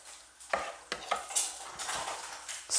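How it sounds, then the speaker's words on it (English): Sugar being stirred into bread batter in a bowl: a quick series of close, soft scrapes and wet knocks from the spoon, rhythmic and fairly quiet, with no one speaking. "That's what I'm trying to do, just to try and mix in the sugar."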